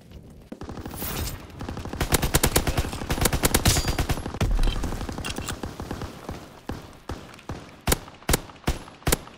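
Rapid automatic gunfire from the player's weapon in Call of Duty: WWII, long loud bursts of closely spaced shots that thin into separate heavy bangs near the end.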